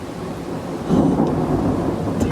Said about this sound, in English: it is thundering and lightning out